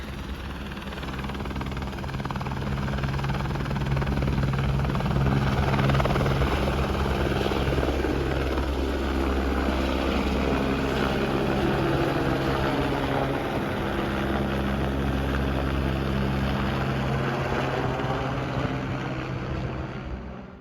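A helicopter roars nearby with a loud, steady engine drone and rotor thrum that stays constant from start to finish.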